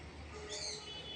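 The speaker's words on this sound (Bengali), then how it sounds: "ওই গাছটাতে টিয়া পাখি বসে বসে ডাকে" A brief, faint parakeet call rings out from a distant coconut tree over low background noise.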